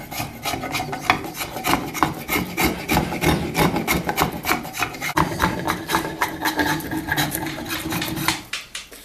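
A blade rasps steadily against a wooden shovel shaft to shave and taper it, giving repeated close, even scraping strokes in a regular rhythm with no talking.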